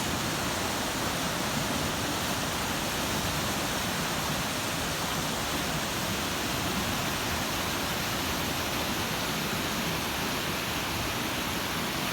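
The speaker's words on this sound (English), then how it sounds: "We've definitely got flooding here, folks." Dense, steady roar of a rain-swollen creek flooding in eastern Kentucky, loud and continuous with no breaks or voices.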